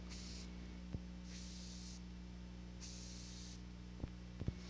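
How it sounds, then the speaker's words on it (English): Short hissing bursts of spray paint onto a plastic scale model come in three evenly spaced pulses, quiet and close, with a few faint knocks and a low background hum. "Spray the color coat the same way you sprayed on the primer"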